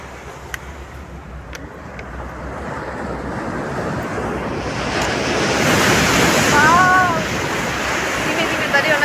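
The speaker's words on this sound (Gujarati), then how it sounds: "બહુ સરસ મજાની લહેર આવે જ પાછળથી" Ocean waves wash onto the beach at Somnath in a continuous roar with wind buffeting the microphone, the surge swelling louder midway, and a faint voice or call briefly rising above it.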